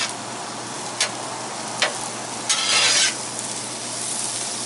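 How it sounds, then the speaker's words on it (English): Steady hissing sizzle of chicken fajitas cooking on a hot griddle, with a few sharp scraping taps and a short louder burst of sizzling. "Hear that sizzle, hear that sizzle."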